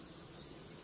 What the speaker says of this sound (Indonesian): Itu dia lebah.